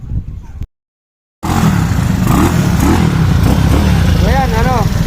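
Yamaha Mio Soul scooter fitted with a Keihin 28mm flatslide carburettor, engine running loud and close with a steady buzzing drone after a brief silent gap, a short rising rev near the end.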